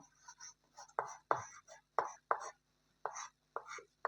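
Chalk or marker strokes on a board during a Hindi alphabet lesson, a close series of short scratchy taps and scrapes in an irregular rhythm.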